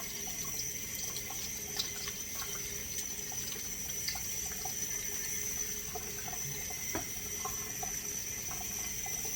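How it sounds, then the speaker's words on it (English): Cold tap water running steadily into a kitchen sink while onions are being prepared, a soft continuous hiss and splash, faint and unbroken throughout. "Let's try some more cold water."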